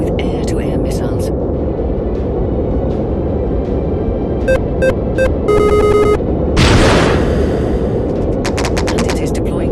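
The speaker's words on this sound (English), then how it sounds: "Take him out with air-to-air missiles." Video-game fighter jet firing air-to-air missiles at an enemy plane: a loud whooshing launch rises over a constant roaring engine drone, with beeping targeting tones before it and clattering gunfire after.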